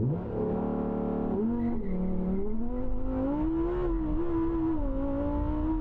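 A rear-wheel-drive supercar launches hard on a quarter-mile run, its engine note climbing steadily in pitch through the gears, loud and close with no talk over it.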